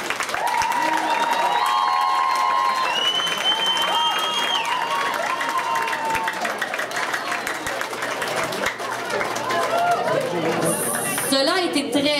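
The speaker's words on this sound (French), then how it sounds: "Une bonne main d'applaudissement." Audience at a school talent show clapping, sustained applause mixed with loud cheering and chattering voices, staying full and lively throughout.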